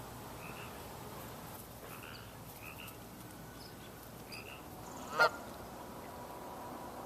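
Ducks at a lakeside picnic area give scattered faint honking calls through steady outdoor ambience, with one sharper, louder squawk standing out near the end.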